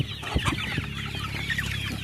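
Chickens peck at a meal of idiyappam, clucking in short, busy bursts close by with a low murmur of the flock underneath.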